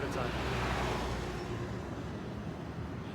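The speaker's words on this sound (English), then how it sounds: "The sound of those old classic cars passing by." Old classic cars pass along a road through open Cuban countryside, producing a steady, fairly loud engine and tyre rumble that stays continuous throughout, with the strongest surge in the first second and a half.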